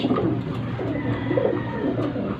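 Young pigeons kept in a storeroom coo continuously, several soft, overlapping throaty calls close by against a steady low background hum.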